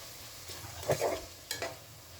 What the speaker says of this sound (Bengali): আমাদের মাংসের মধ্যে কিন্তু তেলটা উপরে উঠে গেছে তার মানে আমার মাংসটা ভালো মতো কষানো হয়ে গেছে